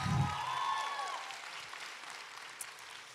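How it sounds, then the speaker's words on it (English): Applause from an audience at a Turning Point USA event, loudest at the start and then thinning out into scattered claps and crowd noise. "And yeah, you should applaud that."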